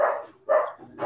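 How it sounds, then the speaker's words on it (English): A dog barks three times in quick succession, each bark sharp and fairly close, with short pauses between them and no talking. "I'm sorry for my dog."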